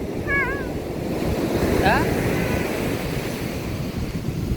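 Steady wash of surf and breaking waves at high tide on a sea beach fills the clip, with a brief faint bird-like chirp early on and wind rumbling over the microphone.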